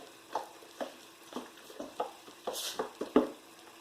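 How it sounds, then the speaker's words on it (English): Well-mixed cornbread dressing is poured from a bowl into a casserole dish, giving a quiet, close run of soft wet plops and light scraping taps at an uneven rhythm. "I'm just going to take this well mixed dressing here and pour it on in"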